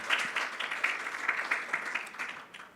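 Steady applause from a conference audience at a Brazilian health data event, a dense patter of many hands clapping throughout at moderate distance, tapering slightly at the end.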